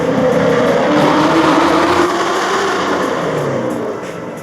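Ford Mustang 2015-20 Shelby GT350 engine running through an aftermarket exhaust with headers, a steady loud close drone that holds for several seconds and then eases off slightly at the end, with no one talking.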